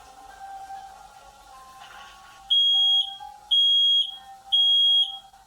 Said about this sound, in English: The smoke detectors.